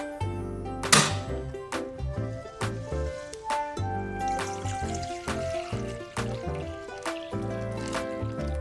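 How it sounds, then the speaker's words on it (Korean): Water used to boil red beans pours out in a steady trickling, splashing flow, with repeated clinks and knocks of a pot over a quiet background. "팥을 삶은 물을 한번 버리고"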